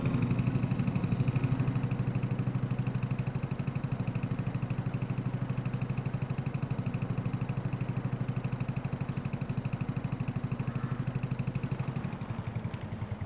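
In Farming Simulator 22, a tractor engine runs at a steady, droning idle with a fast, even chug, loud and continuous with no talking over it.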